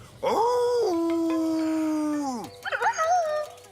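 A long, sustained howl rises and holds steady before dropping off, followed by a few shorter wavering yelps; loud and close, a cartoon bird's imitation of a wolf's howl.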